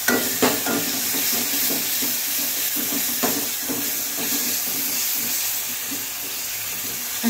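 Chili paste mixture being stirred in a pan for a special kadhi, a steady sizzling hiss with repeated scraping strokes of the spoon, close and continuous.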